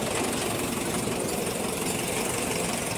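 A Swaraj 855 tractor engine idles steadily and close, with a low rumbling knock, running continuously without pause.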